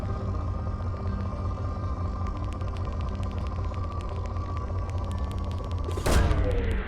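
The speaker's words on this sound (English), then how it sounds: "Launching probe." A probe launches in Mass Effect 2 with a sudden loud whooshing burst near the end, over a steady hum and clicking of game ambience.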